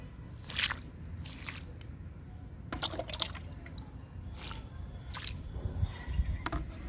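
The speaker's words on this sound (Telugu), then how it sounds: "ఇప్పుడు లిక్విడ్ ఇచ్చేద్దాము, కిచెన్ వేస్ట్ లిక్విడ్." Kitchen-waste liquid fertilizer is poured onto garden plants, producing soft wet splashes, drips and squishy gurgles in short irregular bursts, fairly quiet and close.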